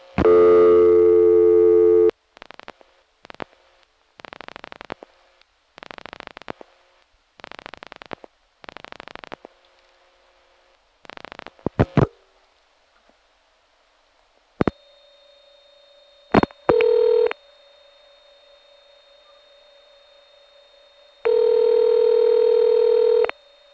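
Telephone call progress tones on a Crossbar 5 exchange in Haverstraw, New York, reached over second-generation T-carrier: a long tone burst, a run of evenly spaced dialing pulses and clicks, then steady tones and a final loud tone burst, with no talk.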